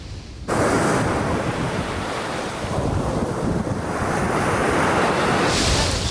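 Sea waves wash onto a beach in Odesa as a loud, continuous surf roar with heavy wind buffeting the microphone, constant throughout and with no voices.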